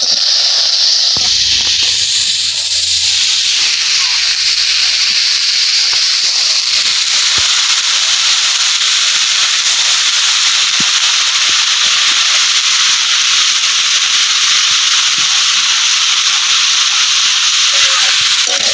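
Cabbage with its juice squeezed out hitting a hot kadai and sizzling loudly, a steady, dense hiss that stays strong and unbroken throughout.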